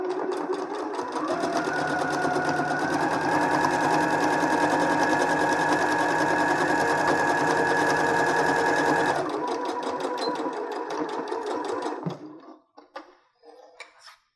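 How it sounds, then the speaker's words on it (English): Sewing machine stitching the short side seams of a fabric face mask with a 3/8 inch seam allowance, running steadily and close for about nine seconds, then slowing into a few short bursts before stopping. "Now we're going to sew the short sides of the rectangle, so the left and the right hand side"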